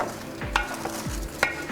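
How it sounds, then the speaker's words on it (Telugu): A spoon stirring prawns, rice and masala in a pot for prawn pulao, with a few scraping strokes and soft knocks against the pot under a light sizzle, close and clear. "ఇప్పుడు దీన్ని మనం రైస్లో బాగా కలిపేసుకొని రొయ్యలు, రైసు, ఈ మసాలా అంతా మనం రైస్కి అంటుకునేటట్టు ఒక 10 నిమిషాలు అట్లా కలిపితే"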